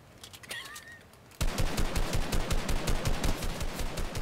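Rapid automatic gunfire from a shooter video game erupts suddenly after a quieter opening with faint bird-like chirps, then continues as a loud, steady burst of closely spaced shots.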